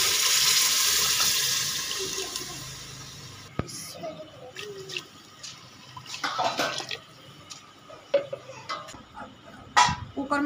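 Water poured from a vessel into a pressure cooker holding spiced taro (kachalu) being fried, giving a steady splashing rush that fades after a few seconds, followed by scattered clinks and small movements nearby.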